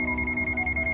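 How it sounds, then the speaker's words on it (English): Steady electronic buzzing beep from the non-contact voltage sensor of an ANENG AN9002 digital multimeter, a continuous close, loud tone with slight pulsing throughout. "NCV non-contact induction buzzer sound when voltage is sensed."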